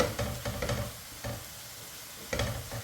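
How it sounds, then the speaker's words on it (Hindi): Tomatoes frying in oil for a Fiji-style fish curry, a close sizzle broken by brisk stirring bursts, with scraping strokes near the start and again at the end. "टमाटर खूब अच्छा से भुजाएंगे"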